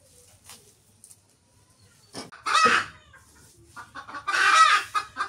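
Chickens clucking indoors inside a house, with two loud bursts of excited clucking and calling at close range and quieter scattered clucks between them.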